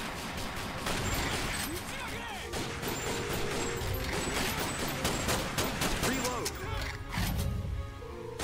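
Rapid light-gun fire from an arcade shooting game running on the Teknoparrot emulator, a dense, continuous barrage of gunshot and impact effects layered with game music and a voice, loud throughout.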